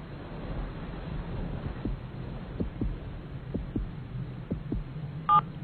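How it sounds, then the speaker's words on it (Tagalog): Heartbeat carried through a mobile phone pressed against a chest, heard as faint, steady low thumps in slow regular pairs beneath a constant hum, ending with a brief electronic tone. "Hindi nagbago ang tibok ng puso niya mula nung huling pagkikita namin."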